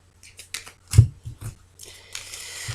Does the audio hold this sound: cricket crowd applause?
no